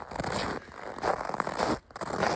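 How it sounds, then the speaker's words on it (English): Footsteps crunch over hard, frozen ground outdoors at twelve below zero, a steady series of close, gritty scraping steps with brief pauses between them. "I mean, you can hear my feet."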